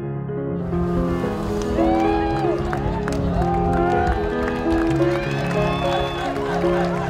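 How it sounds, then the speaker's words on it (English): Crowd cheering and whooping after a high-dive attempt at a diving competition, a steady wash of voices and applause filling the scene, with music and speech layered over it. "The cheers from the crowd filled my ears"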